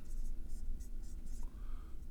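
Pen writing on paper during an anatomy lesson on abdominal arteries, a steady faint scratching with short strokes under a low background hum.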